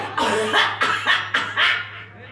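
A person coughs repeatedly, four or five harsh, closely spaced coughs in a row, close to the microphone, with a low steady hum underneath.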